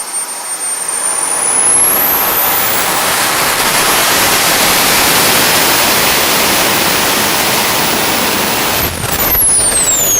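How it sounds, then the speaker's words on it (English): A small jet engine runs at full power with a loud, steady, close roar and a high whine, held without a break for about ten seconds, with no voices. "So that little jet engine is very impressive"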